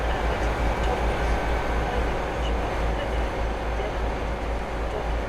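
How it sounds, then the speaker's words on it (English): Class 802 train running on its diesel engines in the Train Sim World 6 game: a steady, loud throbbing drone with rail rumble, continuous and unbroken throughout. "why can I hear what sounds like diesel motors? Oh, that was... LOL! That's because our train's running on diesel"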